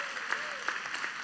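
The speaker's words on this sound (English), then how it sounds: "You should be clapping right now." Brief, lively clapping from a church audience, a dense burst of many hands at moderate distance with a few sharper claps poking through.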